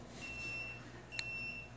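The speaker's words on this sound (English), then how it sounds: "you're going to get a beeping sound coming from your hub" A Gate1 universal WiFi hub gives a thin, high electronic tone lasting about a second, with a brief brighter chirp near the end, heard close but faint over low background hiss.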